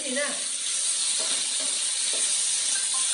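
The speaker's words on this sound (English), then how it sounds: "I'm cooking fried corn, which is a traditional dish for Chinese New Year" Corn frying in a pan for a vegetarian Chinese New Year dish, a steady bright hiss and sizzle that runs continuously at close range, with a voice faintly heard.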